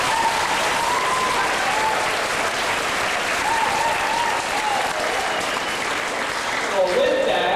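Sustained audience applause at a community event honoring a school principal, dense steady clapping throughout with a brief swell near the end.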